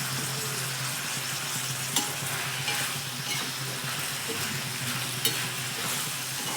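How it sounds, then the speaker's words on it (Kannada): Tomato chutney frying in oil in a pan, a steady close sizzle with occasional stirring scrapes and clicks, continuous throughout with no talking. "ಚೆನ್ನಾಗಿ ಫ್ರೈ ಆಗಲಿ ಇದು ಎಣ್ಣೆಯಲ್ಲೇ"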